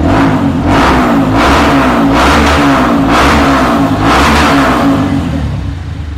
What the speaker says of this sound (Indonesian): Kita akan cek sound motor ini.